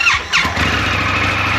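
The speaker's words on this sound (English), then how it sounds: "start our motorcycle and let it run for about 3 minutes here" An Indian FTR 1200 motorcycle cranks with a short whining starter burst, then its engine catches and settles into a steady, loud, close-up idle.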